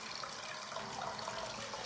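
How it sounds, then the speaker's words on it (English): Tap water runs steadily into a sink, a constant close splashing hiss with no pauses or voices. "just going to put a little bit of water into the sink here"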